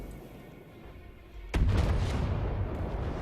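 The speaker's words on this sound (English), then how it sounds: "this is pretty much oversized frag ammunition being used against one of the squishiest targets here in from the depths" In the naval combat game From the Depths, oversized frag ammunition fires with one sudden heavy boom partway through, breaking a quiet stretch and trailing into a low rumbling decay.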